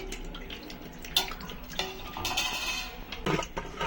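Dissolved tamarind water for pani puri rasam pours and splashes into a vessel with a few brief clinks, the liquid sound moderate and close with no voices.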